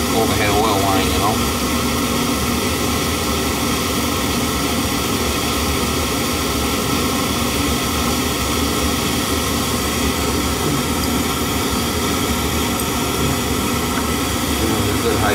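An old oil boiler burner runs steadily while air is bled from its overhead oil line, a constant loud roaring hum that fills the whole stretch without pause.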